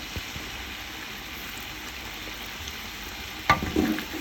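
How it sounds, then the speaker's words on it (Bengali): Raw mango pickle with garlic being stirred in a pan gives a steady, close sizzle, with a sharper scrape and clatter of the spoon near the end. "রসুনটা দিয়ে ভালোভাবে নাড়তেছে"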